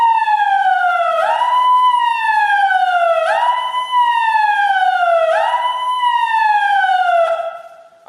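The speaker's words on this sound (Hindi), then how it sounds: "अगर आपको सायरन सुनाई दे, इस प्रकार का सायरन सुनाई दे आपको" A rising and falling emergency warning siren wails loud and steady through three long sweeping cycles, used as a disaster alert signal, then cuts off at the end.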